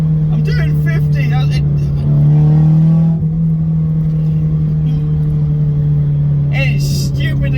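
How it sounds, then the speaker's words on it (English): Car driving at about 50 with a broken exhaust, a loud droning engine note that swells briefly as it revs then settles into a steady rumble, with someone speaking over it near the end. "It is stupidly loud because that exhaust is broken"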